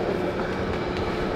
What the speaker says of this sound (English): we're upstairs on the train.